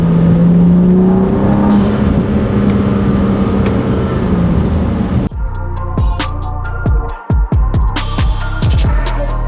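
A new BMW accelerates hard on a rain-soaked road with its wheels spinning, loud engine revving and rising whine up close, then a shift into rapid rhythmic pulsing and clatter.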